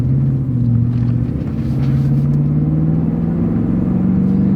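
A V8 Toyota Tundra engine rumbles close and loud, its low drone rising gradually in pitch as it accelerates, with no voices.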